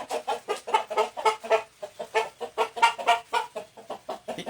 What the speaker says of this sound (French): C'est que des coqs comme ça qui valent très très cher parce qu'ils ont gagné beaucoup de combats